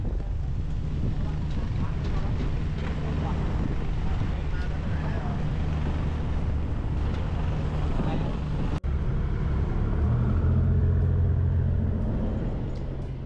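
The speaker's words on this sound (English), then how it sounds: "The ferry is also very comfortable and you can take a nap on the ride while you're going over to Phi Phi Don." A passenger ferry crossing from Phuket to Phi Phi Island drones with a steady low engine hum and wind rushing past the microphone, interrupted by one sharp click partway through.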